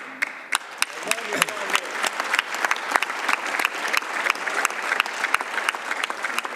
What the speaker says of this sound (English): Continuez à applaudir